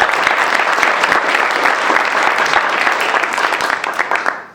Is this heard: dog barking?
no